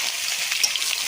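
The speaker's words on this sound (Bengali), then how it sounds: "এইভাবে একটু তেলে ভেজে নেব।" Soybean chunks fry in hot oil, giving a brief, even crackling sizzle close by, with no voices.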